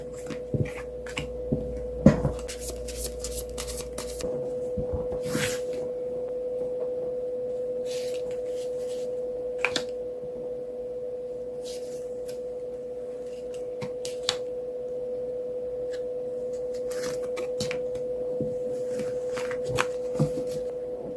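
Tarot cards are shuffled and drawn in quick bursts of riffling, flicking clicks, scattered through a quiet room over a faint steady hum.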